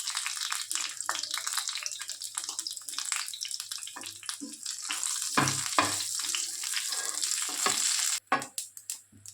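Bay leaf and a spoonful of five-spice tempering crackle and sizzle in hot oil for drumstick curry, a steady close frying hiss broken by stirring clatter and a few louder pops near the end.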